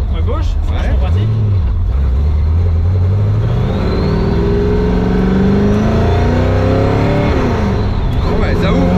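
V8-engined Porsche 914 rumbling loud and close, a deep engine note rising and falling as it revs and pulls, with someone talking over it.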